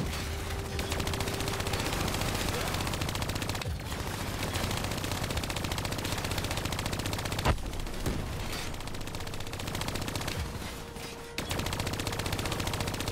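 Dense, continuous automatic gunfire in the video game Call of Duty Black Ops III, loud and unbroken for the whole stretch apart from a few brief dips, with no talking over it.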